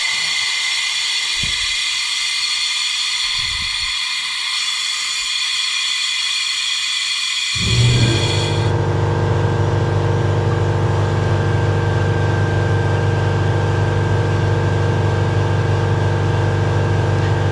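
An air compressor kicks on partway through and runs with a loud, steady mechanical drone near a 5.9 Cummins engine, following a quieter stretch of background hum.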